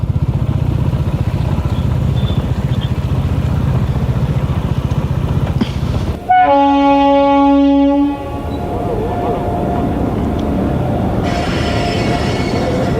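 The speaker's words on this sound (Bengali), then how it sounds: "এখান থেকে ট্রেনটা খুবই স্লো যাচ্ছে।" A passenger train rolls slowly past, heard from beside the line on a motorbike trip in North Bengal. Its steady rumble gives way to a loud, sustained wheel squeal of about two seconds, then the clatter goes on.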